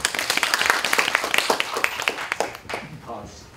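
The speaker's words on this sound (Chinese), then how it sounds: "我们是不是就热烈掌声来欢迎我们的蔡博士？" Audience applause greets a speaker at a landslide and large-scale slope-collapse disaster management training seminar: a dense burst of clapping, fairly near and loud, that thins and fades after about two and a half seconds.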